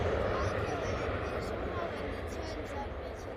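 An airliner arriving from Malta at Manchester Airport makes a steady, loud, broad jet roar that holds evenly throughout with a deep low rumble underneath.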